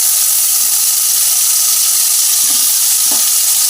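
Potatoes coated in turmeric and salt fry in hot oil with black cumin for a Bengali katla fish curry with ridge gourd, giving a steady close sizzle and hiss, with a couple of faint stirring knocks near the end.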